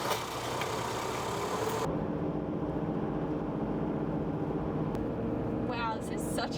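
Steady low road and engine rumble inside a sound-deadened Toyota Troopy cabin while driving, a continuous hum that drops a little in brightness after the first couple of seconds.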